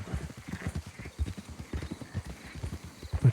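Horse hooves clip-clopping in a steady galloping rhythm while riding in the video game Red Dead Redemption 2, close and distinct, with a brief whinny near the end and faint background voice.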